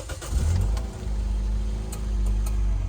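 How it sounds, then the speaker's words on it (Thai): A 2011 Toyota Yaris 1.5 engine rumbles close by, turning over and then settling into a steady, low idle with slight fluctuations. "เราไปฟังเสียงเครื่องยนต์กันค่ะ"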